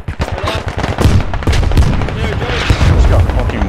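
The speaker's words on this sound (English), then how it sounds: "I just got fucking mortared." Mortar blasts and rapid gunfire in a squad shooter video game: loud, close, overlapping booms and bursts that fill the whole stretch, with players shouting and talking over the combat.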